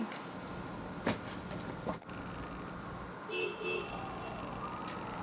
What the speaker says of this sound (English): the traffic is so freaking loud